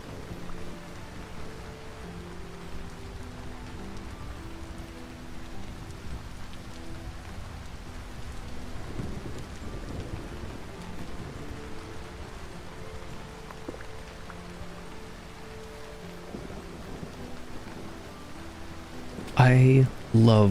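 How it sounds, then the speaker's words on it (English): Steady rain patters on leaves in a video game, with a low rumble of distant thunder mixed in. A loud sudden burst cuts in near the end. "I love the sound of rain in the leaves. It's such a cool feature in this game."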